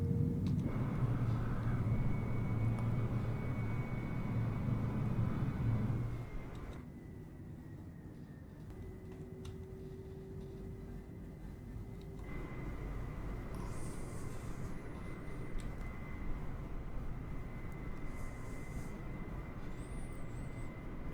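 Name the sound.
Air China 767-400 reverse thrust on landing, from the MSFS video game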